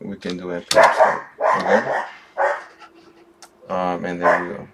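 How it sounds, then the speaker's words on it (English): A dog barks several times indoors, the loud, tonal barks mixed with and partly overlapping a man's nearby speech. "Sorry about my dog."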